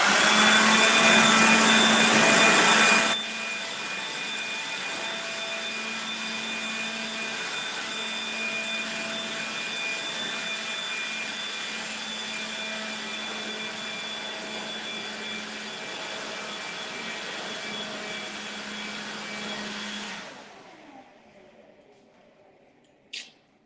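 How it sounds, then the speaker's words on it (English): A battery-powered leaf blower runs with a loud, steady whine and broad airy rush, louder for the first few seconds, then holding at a lower, even level for about twenty seconds before cutting off, with a brief click at the end. "So, this is my wonderful blower."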